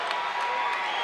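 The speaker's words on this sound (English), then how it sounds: "Crowd's getting excited for this one." Crowd at a Chosen Few Fighting Championship MMA event cheers in a steady, broad roar that fills the whole moment without pause.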